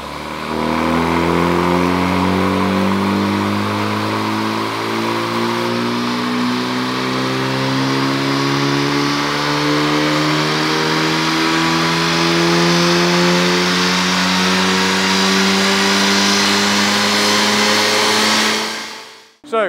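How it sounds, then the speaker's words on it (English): A Honda Civic FL5 with its stock airbox runs on a dyno, bonnet down, its engine climbing steadily and loudly through the revs for nearly the whole stretch, then cutting off abruptly at the end. "We've got the stock box on, going to give it 3 runs"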